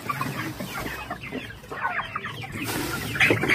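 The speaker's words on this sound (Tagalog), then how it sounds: "Ito mga sisiw." A flock of 45-day-old chickens peeps and clucks nearby in a busy, overlapping chorus of short calls, with no talk over it.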